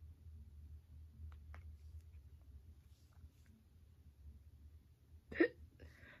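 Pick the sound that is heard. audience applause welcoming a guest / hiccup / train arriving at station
hiccup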